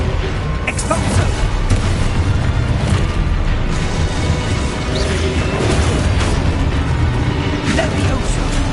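Spell blasts boom and crash almost without pause in Hogwarts Legacy combat, loud and heavy as a voice calls out incantations over them.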